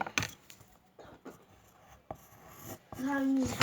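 An eraser rubs in short, scratchy bursts across paper over a pencil drawing, soft and close, with a voice speaking near the end.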